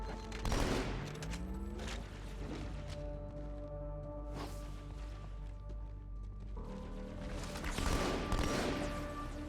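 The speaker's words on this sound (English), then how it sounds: "plasma rifle shots are just coming at you from all directions" Plasma rifle fire in Halo 2 on Legendary difficulty aboard Cairo Station, with bursts of shots and energy blasts coming from several directions, louder volleys near the start and end over steady combat noise.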